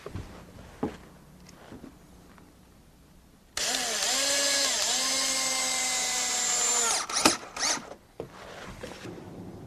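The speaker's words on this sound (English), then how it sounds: "I fasten them to the post at the top with a couple of screws." A power drill drives screws through deck seat frames into a post, one sustained whining run of several seconds that slows at the end, followed by a few knocks and clatters of handling, close and alone.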